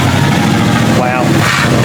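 The engine of an old Jeep with true dual exhaust runs loud and close after sitting for 25 years, a steady rumbling idle with an exhaust leak, mixed with people talking over it.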